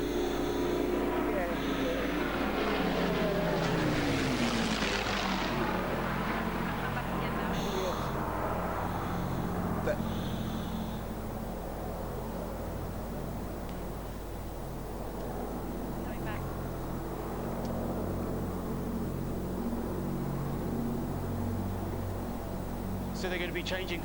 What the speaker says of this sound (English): I'll let everybody listen now to the lovely sound of the Hurricane and Spitfire.